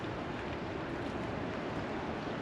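Wind on an outdoor GoPro 9 front microphone fitted with a wind buff: a continuous loud, rumbling buffet that fills the whole clip with no voices.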